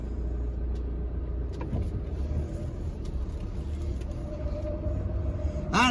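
A Fiat Ducato pop-top camper van drives along with a steady, loud engine and road rumble from inside the cab, and a rising whine comes in at the very end.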